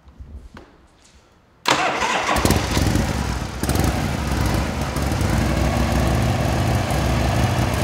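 A restored 1977 Harley-Davidson FX engine cranks briefly, then catches and roars to life, settling into a loud, steady idle that runs continuously.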